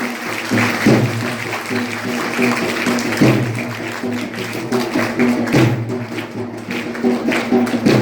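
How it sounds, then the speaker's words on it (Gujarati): Applause welcoming two older sisters at a school birthday celebration: a sustained, fairly loud wash of clapping from a gathered crowd, with occasional thumps and a tonal hum or voices underneath throughout. "આપણે સૌ એમને પણ તાળીઓના ગગડાથી વધાવી લઈશું."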